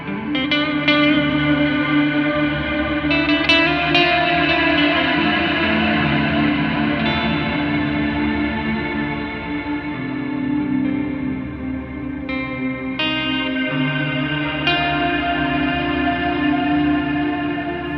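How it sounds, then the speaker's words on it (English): Guitar through a Meris Mercury X reverb pedal, drenched in heavy reverb, forms a thick, swelling ambient pad that sustains continuously, with a few brighter plucked notes shimmering through the wash. "what you heard there was this super thick pad."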